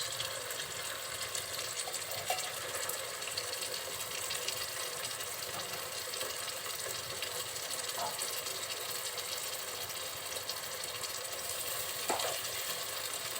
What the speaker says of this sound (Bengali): খুব তেলের সাথে খুব সুন্দরভাবে কষিয়ে নিতে হবে